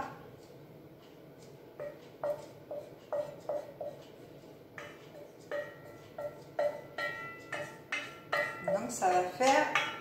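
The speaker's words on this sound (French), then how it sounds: "on va reprendre ce mélange-ci et on va tout simplement mélanger à la semoule" A leek and onion mixture is stirred into semolina in a dish, giving a string of sharp clinks and scrapes of utensil against crockery, close and increasingly rapid toward the end, with no talking.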